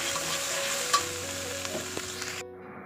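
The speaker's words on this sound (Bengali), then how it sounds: "এই যে সোয়াবিন ভাজা আমার চলছে এখন" Steady sizzling and crackling of soybean chunks frying in hot oil, with occasional stirring clinks and scrapes in a pan, then fading abruptly near the end.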